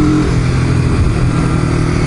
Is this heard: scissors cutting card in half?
no